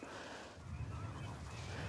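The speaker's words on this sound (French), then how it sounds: "on entend les flamands plus au loin, devant on a les sarcelles." Waterbirds calling together in a Camargue marsh, distant flamingos behind nearer teals, a dense continuous chorus of honking and low chattering calls.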